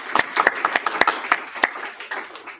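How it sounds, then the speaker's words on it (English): Small audience at a visual programming user group talk applauding workshop tutors, a short burst of scattered hand claps, fairly close and moderately loud. "So big applause for them for all this volunteer work that they want to put."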